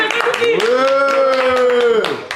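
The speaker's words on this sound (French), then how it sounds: "on applaudit Lucky" A small group claps for Lucky during a live-streamed chat session, with quick rhythmic claps running under a loud, drawn-out vocal cheer, close and lively.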